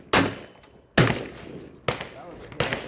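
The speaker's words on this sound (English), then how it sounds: "I'm shooting just a little bit low." Four loud, close pistol shots from an ATI FXH45 Moxie 1911 hybrid handgun, spaced roughly a second apart, each a sharp crack with a short ringing decay.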